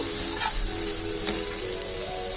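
Small fish dropped into hot spiced oil in a pan for a spicy fish curry, setting off a loud, steady sizzle and frying crackle that fills the whole stretch with no talking.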